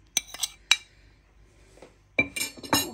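A metal spoon clinks against a bowl while spices are mixed into room-temperature oil for a mixed vegetable pickle, a few sharp taps early on, then quiet before a busier burst of scraping clinks near the end.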